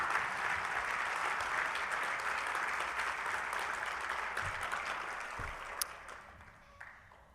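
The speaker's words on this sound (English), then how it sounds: "So please, give yourself a round of applause." An audience at a charity gala gives a sustained round of applause, a dense wash of clapping that holds steady and then tapers off near the end, with a few louder stray claps.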